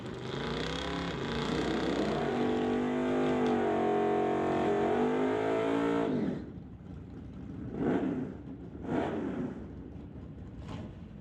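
A 1969 Rambler and a 1966 Ford Mustang with a 302 roar off at a drag strip, loud engines revving with rising pitch for several seconds, then cutting off, followed by a few distant whooshes.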